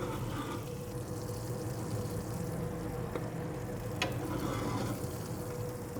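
Shrimp wrapped in bacon sizzling on a cast iron grill, a low constant hiss and crackle with a few faint clicks, heard at a distance and fairly quiet.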